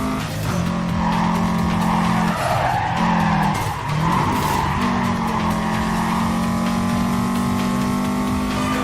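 Race cars in the Need For Speed Carbon video game screech their tires loudly and continuously while engines roar at sustained pitch, with brief dips as the cars slide through turns.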